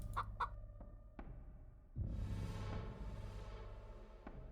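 Cartoonish chicken clucks from the video game Save Clucky, a few short sharp clucks at the start, then a longer squawking burst, over a low steady game hum.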